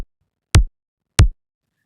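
Two kick drum hits processed with a Slap transient plugin, each opening with a sharp, bright click before a deep thump and a fast decay, spaced about two-thirds of a second apart with no other sound.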